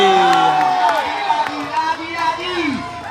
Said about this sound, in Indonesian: Mendapat tepuk tangan dari penonton kami.